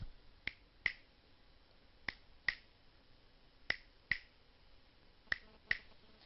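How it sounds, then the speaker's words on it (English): Sharp finger snaps in pairs, four pairs spaced evenly about a second and a half apart, crisp and close against a quiet background with no talking. "Snap your fingers like this."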